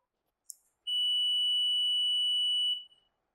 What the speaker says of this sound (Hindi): ये कंटिन्यूटी की आवाज आ रही है, बीप साउंड आ रहा है आपको।